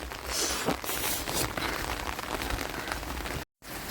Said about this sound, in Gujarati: જો ગાજ્યા વરસાદ ચાલુ ચાલુ છે આ